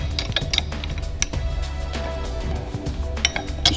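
Two 17mm spanners tightening down a Ford Transit front wheel bearing removal tool, a run of close metallic clinks and ratcheting taps in an irregular rhythm, with no talking.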